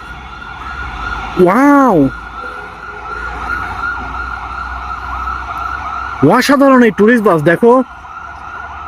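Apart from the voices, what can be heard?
ambulance siren passing by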